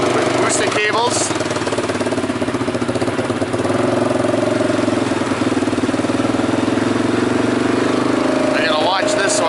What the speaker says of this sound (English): Got the Can-Am and I got the Yamaha. Both of these ATVs are hooked up to my Jeep with boosting cables.